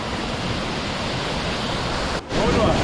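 A waterfall pours into a turquoise pond in Meghalaya with a loud, steady broadband rush of falling water from close by that briefly drops out near the end and then returns.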